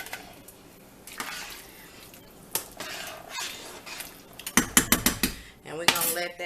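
Smoked oysters go into a pot of jambalaya with a quiet run of metallic clinks and scrapes of a utensil against cookware, ending in a quick burst of sharper clatters close by.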